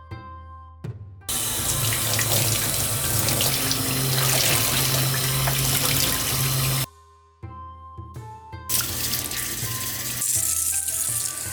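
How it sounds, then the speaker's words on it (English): Tap water gushes steadily into a sink while dyed fabric is washed for a cosplay hakama, loud and close, with two brief pauses where the flow stops and then resumes. "Now we're going in and washing the fabric again, this time to take out whatever we could not rinse out by hand."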